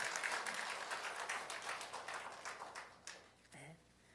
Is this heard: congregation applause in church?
yes